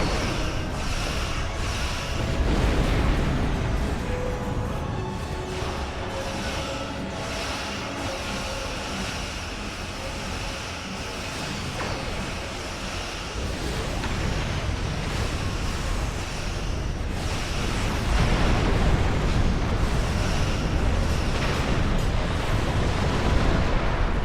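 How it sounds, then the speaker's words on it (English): Quantum torpedoes firing and exploding in a Star Trek fan production, a continuous roaring, rumbling wash of sci-fi weapon and explosion effects that swells and surges over about twenty seconds, loud and dense with no speech. "Fire quantum torpedoes,"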